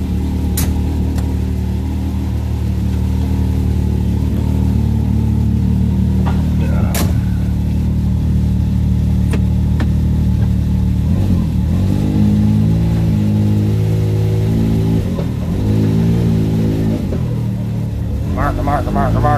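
A Can-Am Maverick X3 engine idles steadily while warming up, a loud, close, even rumble that lifts briefly in pitch near the end, with someone speaking over it.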